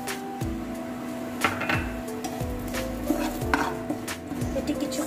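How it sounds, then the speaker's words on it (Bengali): Oats being stirred into fried chopped onions in a pan: soft scraping strokes of a spoon recur roughly every second over a low steady sizzle and hum, fairly quiet and close. "এটি কিছুক্ষণ নেড়ে নেব"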